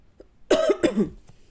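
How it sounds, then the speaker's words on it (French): Two close, hoarse coughs in quick succession, with a faint throat-clearing rasp trailing off afterward in an otherwise quiet room. "Pardon, je te tousse."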